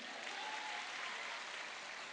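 A steady wash of clapping from a group, dense and even throughout, heard at moderate volume without voices.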